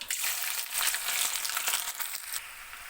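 Ginger fries in hot oil for homemade gooseberry pickle, a close, loud and steady sizzle with crackly bursts that eases slightly toward the end.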